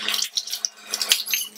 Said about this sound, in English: Rinse the dipper with hot water again.